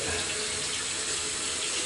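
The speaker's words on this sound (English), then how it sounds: "Check the water pressure, and we're just going with a hot here." A bathroom faucet runs hot water at good pressure into a sink, a steady close hiss and splash that holds level without talk.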